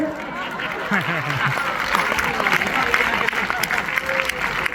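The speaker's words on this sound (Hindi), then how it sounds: "आप लोगों ने गलत जगह ताली बजा दी" Scattered applause ripples through the audience at a Hindi comedy poetry show while a performer keeps talking over it, the clapping moderate and spread across the room.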